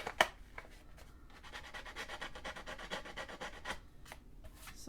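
Fine-grit sandpaper scuffs across paper in a series of soft, raspy rubbing strokes with a few sharper scrapes, close but fairly quiet.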